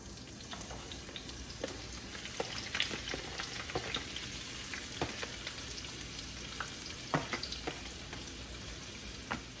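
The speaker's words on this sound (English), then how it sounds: "I got some oil in this skillet here. Just gonna get these peppers going." Peppers frying in hot oil in a skillet give a continuous sizzle at moderate level, with irregular pops and spatters and occasional stirring scrapes, no talk.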